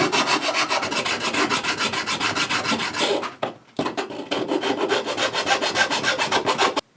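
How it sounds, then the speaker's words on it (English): Hand file scraping the edges of ABS plastic pieces, a fast, steady rhythm of close, loud rasping strokes that breaks off briefly near the middle and then resumes, with no talking. "I just need to attend to those edges with a file"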